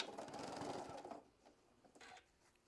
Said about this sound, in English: I'm going to stitch it down.